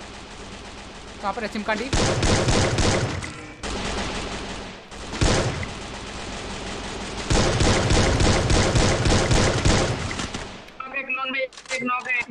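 Gunfire in Garena Free Fire, including sniper shots, with loud sustained bursts of rapid automatic fire in long stretches separated by brief pauses, while a player talks over the shooting.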